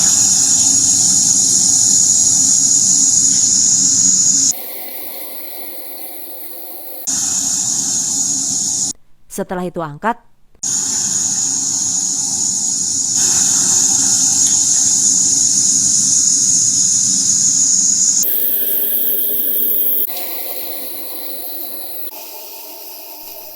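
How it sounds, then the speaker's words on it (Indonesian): Tempe chips deep-fry in hot oil with a steady loud sizzle and hiss that breaks off and comes back as batches are stirred and moved. A voice speaks briefly partway through. "Goreng sisanya hingga habis."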